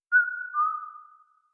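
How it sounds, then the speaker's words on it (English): A long, smooth melodic whistle holding a clear pitch, then sliding slightly lower as it fades out after about a second. "Then the whistle started."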